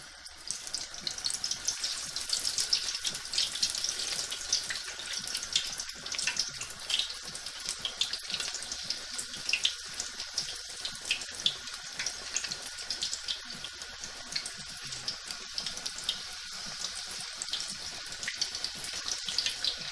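Pakoras fry in hot oil in a karahi, a steady crackling sizzle that carries on for the whole stretch at close range with no voices.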